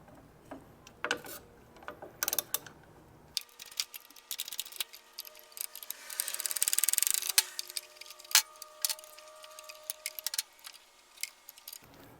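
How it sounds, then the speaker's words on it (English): A ratchet fitted with a 3/16 hex socket works loose a Harley front pivot nut, producing rapid close clicking and metallic clinks in uneven bursts, with a denser whirring run partway through. "Got a 3/16 hex socket here. We're going to take this one and we're going to remove this front pivot nut"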